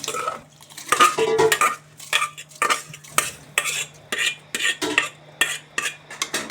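A spoon stirs washed jeera samba rice into boiling water in a cooking pot, giving a rhythmic series of close scraping and clinking strokes with bubbling underneath, each pass repeating about twice per second.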